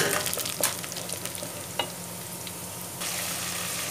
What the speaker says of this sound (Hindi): मसालों को हमने कर लिया फ्राई